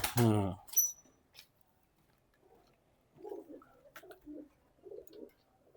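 A brief voice at the start, then a quiet pause before several soft, low pigeon coos repeat nearby in short bursts.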